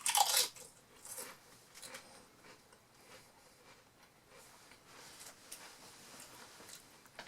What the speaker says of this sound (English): Not greasy, but they have a nice crunch.